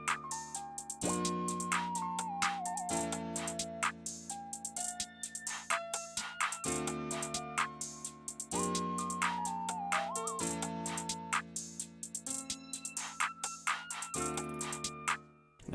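A plugg beat built in FL Studio loops its drum pattern of snares, rims, shaker, open hat and hi-hats under jazzy melodic keys, repeating in a steady, quiet groove across the clip.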